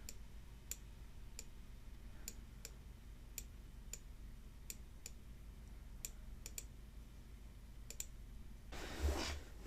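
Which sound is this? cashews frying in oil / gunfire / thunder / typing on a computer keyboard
typing on a computer keyboard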